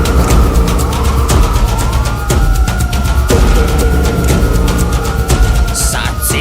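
Police car sirens wail loudly in the GTA video game during a bank heist. Several rising and falling sweeps overlap in a steady, repeating cycle over a dense rumble of vehicle noise.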